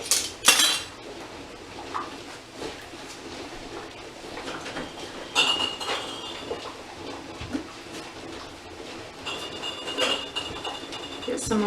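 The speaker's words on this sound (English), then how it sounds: "I'm just going to go ahead and place these down in the canner so they don't cool down at any point." Glass canning jars set down one after another into a metal canner, giving sharp clinks and knocks scattered through the stretch, with a bright glassy ring near the start and again later, with soft background rustle.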